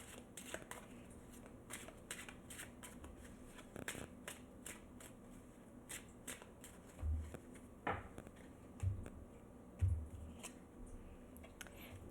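Playing cards are shuffled softly by hand to draw a single card, producing faint, rapid papery flicks and clicks in a quiet room, with a few low thumps.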